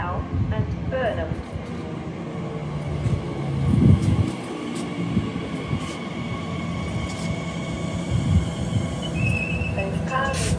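Elizabeth Line train of nine coaches running between Slough and Burnham station toward Maidenhead, a steady rumbling roll with rail noise throughout, a faint whistle-like tone and onboard announcements spoken over it.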